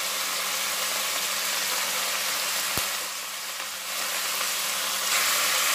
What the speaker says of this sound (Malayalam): ഹൈ ഫ്ലെയിമിലിട്ട് 1-2 മിനിറ്റ് നന്നായി വേവിച്ചെടുക്കാം.